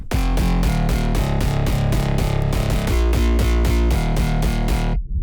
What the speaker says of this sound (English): The bass altogether sounds like this.